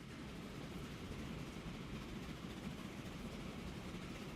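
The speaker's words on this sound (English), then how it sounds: "Where's the train? Okay, there's one coming now." A train arrives in the video game Transport Fever, a faint, steady rumble of rolling wheels and engine that holds even throughout with no voices.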